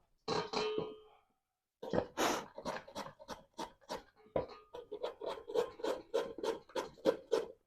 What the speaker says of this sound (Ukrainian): Зараз я ще потру цю моркву.